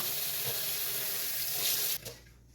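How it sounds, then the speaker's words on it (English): Metal tongs being rinsed under hot running water from a kitchen sink tap, a steady loud splashing stream that cuts off abruptly near the end, leaving a few faint drips and clinks. "So I'm just gonna wash that up."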